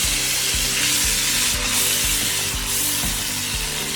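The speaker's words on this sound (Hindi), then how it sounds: "मैं डालने लगी हूँ ऑयल, इतना सा चाहिए। इसके अंदर मैं प्याज डालती हूँ" Onions frying in oil for egg kebab, heard as a dense, loud, steady sizzle close by, with a faint regular low pulse underneath and no talk.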